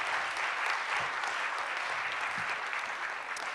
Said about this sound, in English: Please join me in a round of applause welcoming our candidates for the District 6 City Council.